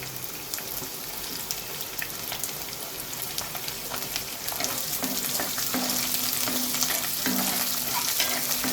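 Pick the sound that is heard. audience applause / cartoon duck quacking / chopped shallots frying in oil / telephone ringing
chopped shallots frying in oil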